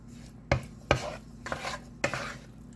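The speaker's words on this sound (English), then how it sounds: "Mix that flour on up in there." Flour being stirred into browned meat in a pot: a few sharp spoon knocks against the pot, each followed by soft scraping and mixing strokes, near and moderately loud, with no talking.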